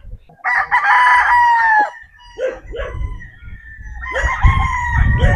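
Roosters crow loudly and close by, one long crow followed by shorter calls, with another crow starting near the end over low background rumble.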